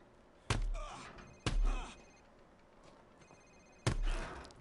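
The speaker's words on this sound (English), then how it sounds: "Sir, it's his cell phone." A cell phone rings in the Call of Duty Modern Warfare Remastered campaign, heard as three sharp electronic ring bursts spaced a second or two apart, each with a short ringing tail, over low game ambience.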